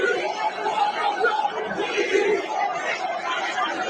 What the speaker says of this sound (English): you can hear the roar of the crowd that's there